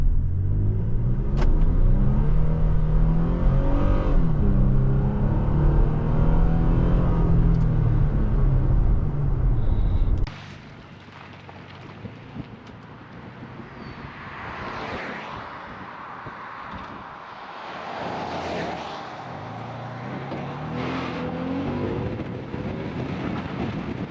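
A 2023 Toyota Tacoma mid-size pickup making a light take-off, with an engine tone that rises in pitch for about ten seconds, then drops to a rougher, wind-buffeted rumble as the truck rolls on.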